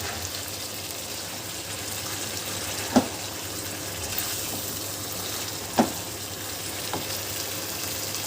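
Chicken and tomatoes fry in a karahi for dhaba-style chicken karahi, giving a steady low sizzle with a couple of brief sharp clinks or stirs standing out, and no one speaking.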